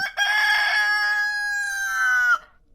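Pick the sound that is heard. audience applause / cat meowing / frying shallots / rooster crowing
rooster crowing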